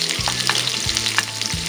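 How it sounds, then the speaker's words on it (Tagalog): Seafood and onion sauté in a non-stick pan with a steady sizzle, and a spatula scrapes and stirs it in several distinct strokes. There is no talking. "So, igigisa ko muna siya sa kunting sibuyas."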